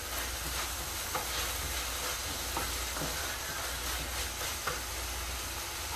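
Beef stew browning in a pot as its liquid cooks off and it starts sticking to the bottom, giving a steady close sizzle and hiss with faint stirring scrapes and small clinks, no talking.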